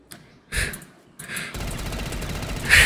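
Rapid bursts of gunfire in Black Ops 3 Zombies on a Hearthstone Tavern, World of Warcraft–themed map during a Lich King boss fight, two short volleys followed by sustained loud firing.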